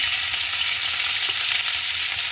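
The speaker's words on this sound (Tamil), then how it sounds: "இப்போ நாங்கள் இந்த இடித்து வச்சுருக்கிற இஞ்சி பேஸ்ட்டை போட போகிறோம்" Crushed ginger paste frying in hot oil, a loud and continuous bright sizzle heard up close and steady throughout, with no talk.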